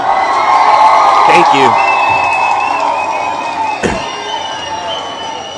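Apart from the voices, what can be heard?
crowd applause and cheering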